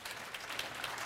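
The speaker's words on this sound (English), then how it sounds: "We can give her a round of applause, please." An audience at a state political panel event breaks into applause, a brief, steady wash of clapping heard on its own.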